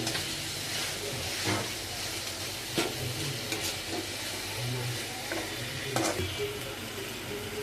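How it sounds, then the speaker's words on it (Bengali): Crab frying in a home kitchen pan, sizzling steadily while a spatula stirs it with repeated scraping strokes and clinks, close and fairly loud, with no talk. "আমি এটাকে নাড়াচাড়া নাড়াচাড়া করতেছি"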